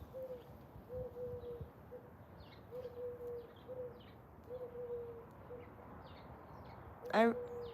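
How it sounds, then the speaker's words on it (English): An owl hoots outdoors in a repeated series of soft, low calls at steady intervals, moderately distant, with a brief sharp sound near the end. "there's an owl here always howling"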